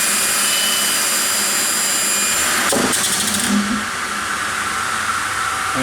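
A Pat Mooney PMI-20 precision upcut saw cutting aluminum profiles: a loud, steady mechanical whine fills the clip, with a brief bright burst of the blade passing through the metal midway before the sound eases slightly.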